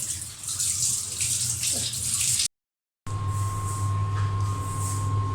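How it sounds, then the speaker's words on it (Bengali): Water is poured into a pan of fish on the stove, a steady running splash that breaks off into a moment of silence and then gives way to a quieter hum. "একটু পানি দিতে হবে।"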